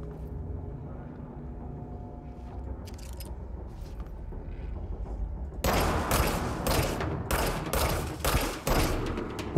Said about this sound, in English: Finally, some use for a shotgun.